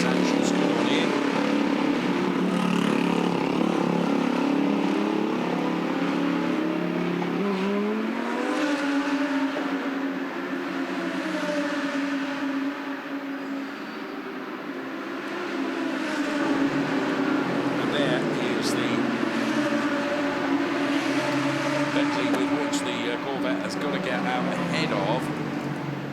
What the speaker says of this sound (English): So the Corvette roars back into life again.